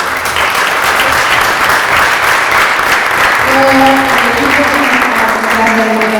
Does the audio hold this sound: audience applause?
yes